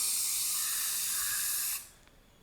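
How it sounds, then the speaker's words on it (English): Dye penetrant is sprayed from an aerosol can onto a welded test sample in one steady close hiss of about 1.8 seconds that then cuts off, leaving near silence. "I am applying the penetrant in the welded sample"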